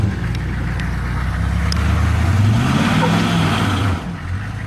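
4WD vehicle on a rough off-road track, engine revving and straining as its tyres spin, a loud sustained roar rising then easing near the end.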